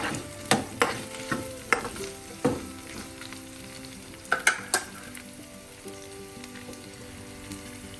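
Dried red chillies and small onions sizzle steadily in a pan for a small-onion chilli chutney, with several sharp spoon scrapes and clinks of stirring standing out over the constant quiet frying.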